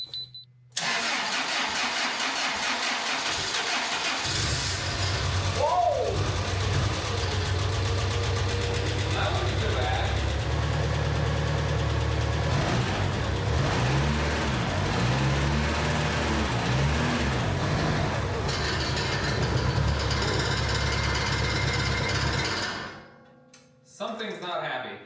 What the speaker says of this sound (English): I did not like how that engine just took off like that